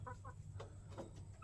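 Chickens clucking beside a water trough on a farm, several short soft clucks spread across the moment over a steady low background hum.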